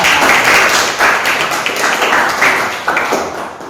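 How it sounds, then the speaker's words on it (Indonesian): A small audience claps after a film screening, a loud, close, somewhat uneven patter of hands that swells in bursts and gradually tapers. "tepuk tangan buat film yang luar biasa"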